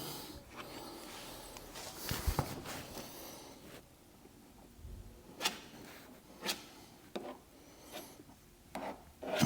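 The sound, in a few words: spreading body filler onto a rusty Citroen C1 panel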